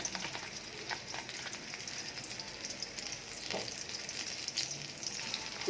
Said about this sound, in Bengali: প্যান পেঁয়াজ দিয়ে দিলাম